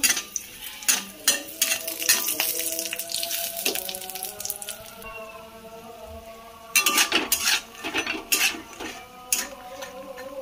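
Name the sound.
lentil dumplings (bori) frying in a little oil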